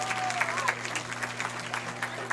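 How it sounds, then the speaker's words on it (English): Crowd applause at a high school football game's senior night honoring band, cheer and color guard seniors, a steady patter of distant clapping with a voice talking over it. "Please give a final round of applause to all our seniors"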